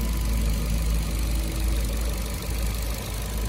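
A 2011 Ford Fiesta with a 1.6 engine and automatic gearbox idles in a steady, smooth low rumble, close and constant, with no talking.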